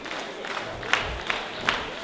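A wrestling crowd at an IHW show cheers for Pantana, a steady roar of voices with a few sharper shouts rising above it.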